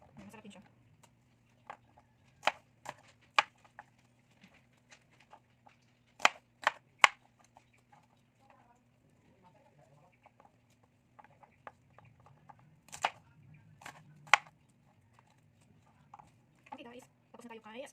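Sharp, scattered knife chops through asparagus on a cutting board, irregular and crisp, with a person talking intermittently between the cuts.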